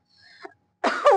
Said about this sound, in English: And the way I coughed was also very like